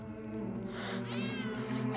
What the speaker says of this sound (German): Verdammte Katze, komm hierher.